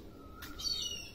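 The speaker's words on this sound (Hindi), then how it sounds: "कोयल की आवाज़" A koel calls in the morning, a short, faint tonal call standing out briefly over quiet background ambience.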